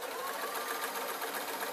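A sewing machine runs steadily, stitching the flap of a simple waistcoat in one continuous close, even whir with no pauses.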